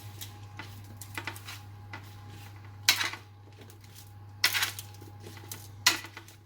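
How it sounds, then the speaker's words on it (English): Seasoned beef and vegetables stirred on a metal sheet pan, with scattered scrapes and light clinks, a few sharper metallic knocks standing out over a steady low hum, and no talking. "Now you just want to stir to mix it together and coat everything evenly."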